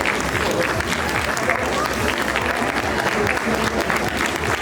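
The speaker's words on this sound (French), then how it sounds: "Ah ça s'applaudit." Steady, dense applause from an audience at a cosplay contest, sustained at an even level throughout with a few voices mixed into the crowd noise.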